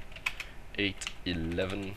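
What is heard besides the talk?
typing on a computer keyboard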